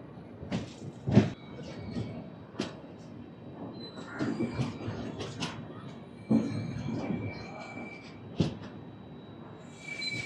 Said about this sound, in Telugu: మన ట్రైన్ అయితే స్టార్ట్ అయిపోయింది ఆన్ టైంకి.